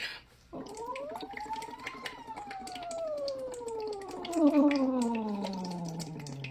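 Someone blows through a straw into water to imitate a police siren, making a wavering tone that rises and then slowly falls over a constant bubbling gurgle, close and fairly soft.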